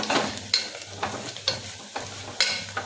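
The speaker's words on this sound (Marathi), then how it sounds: "लाल मसाला टाकला की चांगलं फेटून घ्यायचं" Red masala frying in oil for a mutton dish, stirred hard: a spoon scrapes the pan in regular strokes about every half second over a continuous sizzle.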